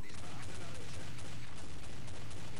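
Continuous dense burst of rapid gunfire and crackling explosions in a Counter-Strike: Condition Zero gun game match, loud and sustained throughout with no pauses, like an intense firefight.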